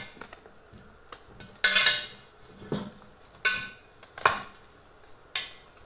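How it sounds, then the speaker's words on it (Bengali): Stirring in a cooking pan after soy sauce and salt go in, with sharp metallic clinks and scrapes of a utensil against the pan, spaced irregularly with quiet gaps between. "সয়া সস, এখানে একটু নেড়ে ছেড়ে দেবো।"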